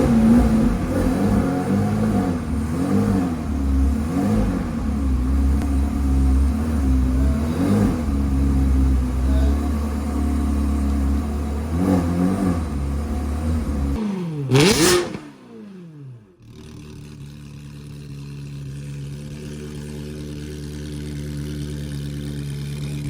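A Ferrari's engine revs and runs loudly with a deep, fluctuating roar as the car is moved out, then a sharp whine and a sudden drop before it settles to a lower, steady running note.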